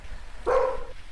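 A single dog barks once in the background, a short mid-loud woof rising over steady low room hum, with no talk during it.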